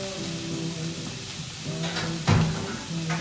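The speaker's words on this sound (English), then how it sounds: "whilst that's cooking away, I'll talk up a bit now because obviously that's sizzling" An oiled fillet steak sizzles steadily in a pan, a continuous close hiss with a brief louder clatter near the end, and no one speaking over it.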